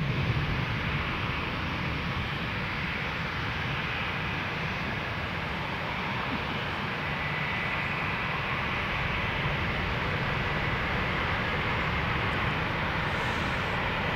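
On a misty morning at London Gatwick, a British Airways Airbus A319 takes off, its jet engines giving a steady, broad roar that holds evenly throughout, moderately distant and unbroken, with no voices.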